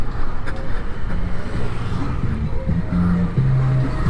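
Congested road traffic near fuel stations in Pematang Siantar during long fuel queues, a steady close rumble of idling and creeping car and motorbike engines, with some faint horn-like tones and brief faint voices.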